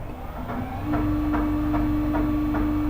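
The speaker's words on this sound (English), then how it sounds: "if I turn on the ice cream machine, I'm going to put it in auto. The compressor is going to kick in." An ice cream machine's compressor kicks in under a steady electrical hum, setting off a constant low drone with soft rhythmic pulsing that continues to the end.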